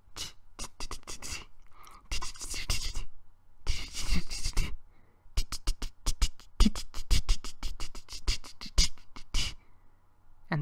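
A mouth-made imitation of a spider dancing: dense, scratchy clicks and rustling taps in uneven rapid bursts with short gaps, up close and without speech.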